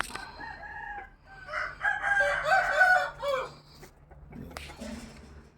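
A young rooster, only six or seven months old, of a Burmese fighting-cock type, gives one loud, close crow. It ends in a drawn-out call, followed by quieter clucking and faint background noise.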